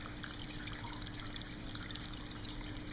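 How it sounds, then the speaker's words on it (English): Water trickles steadily from a hand-carved tabletop fountain, a small waterfall spilling beneath a natural bridge, giving a soft continuous splashing and burble with no voices. "This is a really cool waterfall."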